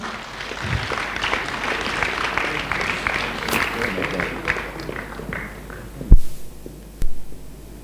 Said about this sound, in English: Please applaud them as they come.